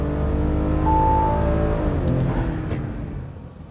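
An Audi SQ5 3.0T on a dyno accelerating under a full pull, with a loud, steady rising engine drone, a brief whine, then a shift and falling revs as the sound fades.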